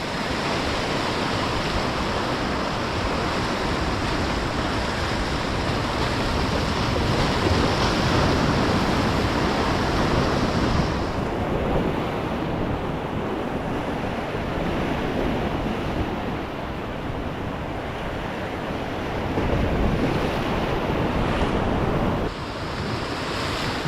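Ocean swell surging and breaking over rocks on the shore, a steady roar of white water with rising and falling crashes, loud and close, wind buffeting the microphone.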